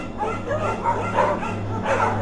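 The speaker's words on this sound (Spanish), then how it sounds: "Los perros ladraban eufóricamente, tal vez con rabia o quizá miedo." Several dogs bark and yip excitedly in close succession, loud and near, with whimpering tones mixed in and no talk over them.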